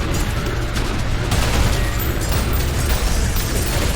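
An enemy death explosion in the video game ULTRAKILL bursts loudly, a dense crunching blast with rumbling booms and pops packed into a few seconds, with no talk over it.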